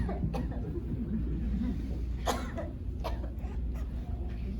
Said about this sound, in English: And I'm gonna cough.